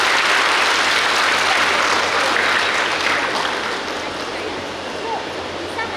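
A graduation ceremony audience at a medical college applauds, a dense, steady wash of clapping that carries loudly through the hall and eases a little toward the end.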